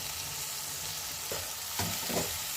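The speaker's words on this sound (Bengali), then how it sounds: "আচ্ছা, এবার আমি দিয়ে দিচ্ছি কেটে রাখা পালং শাকগুলো।" Chopped spinach goes into a hot frying pan with a loud, continuous sizzle, broken by a few brief stirring scrapes and rustles.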